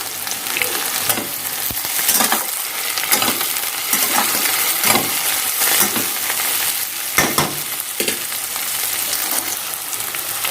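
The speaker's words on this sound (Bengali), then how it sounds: "3টে বড় সাইজের পেঁয়াজ ভেজে নিচ্ছি প্রথমে।" Three large onions sizzle in hot oil with bay leaves, a loud, continuous crackling fry broken by repeated scraping stirs and occasional clinks against the pan, close up with no talking.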